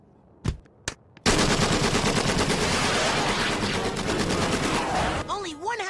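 Rapid automatic gunfire from a gun in a Futurama cartoon bursts in after a few short sharp pops, a loud continuous rattle running several seconds before a whirring tone at the end.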